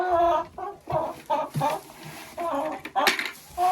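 Backyard dacha hens cluck in a string of short, repeated calls, fairly close and moderately loud, with brief gaps between bursts.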